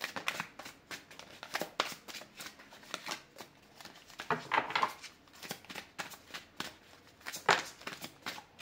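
Tarot cards being shuffled by hand, a steady run of soft riffling flicks and papery slaps, close and moderately quiet, with no talking.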